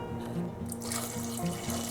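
Water pours steadily into a pot to make a chicken brine with rosemary, peppercorn, salt, thyme, bay leaf, cilantro, mint and garlic, a continuous close splashing rush throughout.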